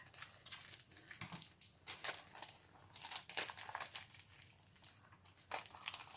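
A plastic packet of La Blanche mixed media Easter products crinkles and crackles as it is cut open during unboxing, with close, irregular rustling bursts and sharper crunches over several seconds.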